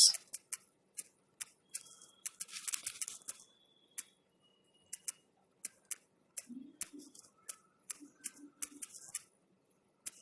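Keys clacking on a computer keyboard as a question is typed into a Google Form, with a steady run of sharp, close taps in irregular bursts and brief pauses, no talking.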